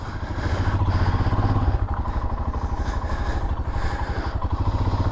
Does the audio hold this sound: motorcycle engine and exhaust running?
yes